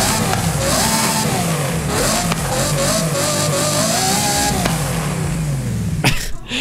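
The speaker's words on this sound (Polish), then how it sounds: "I hybryda V12 brzmi sobie tak," A hybrid V12 Ferrari engine in a racing video game revs loud and continuous, its pitch climbing and dipping in several sweeping rises before cutting off sharply near the end.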